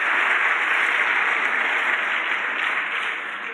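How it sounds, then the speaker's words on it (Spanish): Congregation applause during a church service, a dense, loud and even wash of clapping that holds steady throughout, fading slightly at the end. "dele otro aplauso al rey"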